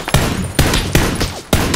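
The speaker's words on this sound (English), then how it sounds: "He's shooting in the same direction Tacky's shooting in." Loud PUBG gunfire in four sharp bursts spaced roughly half a second apart, each a harsh broadband crack with brief decay, close and dominant with no talking over it.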